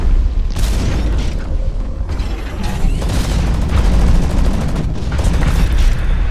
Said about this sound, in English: That's premature explosion.